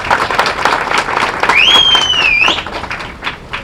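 An audience at a political meeting claps in a dense burst of applause, loud and close, while a short whistle-like tone rises and falls in the middle.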